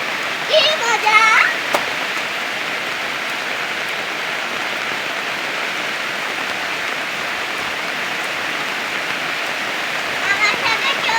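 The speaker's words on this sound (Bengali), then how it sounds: "আজকে জোরে বৃষ্টি হয়েছে" Heavy rain pours down steadily in a dense, continuous hiss, loud and unbroken throughout, with a brief faint voice near the start and end.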